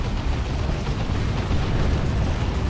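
Dense, continuous rumbling barrage of rocket explosions from an Ork rocket run in the Dawn of War 2 strategy game, a sustained low roar of overlapping blasts with no clear gaps across the whole stretch.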